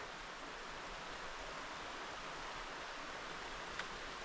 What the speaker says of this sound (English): You might be able to see and or hear some of it amongst the large boulders. North Chickamauga Creek.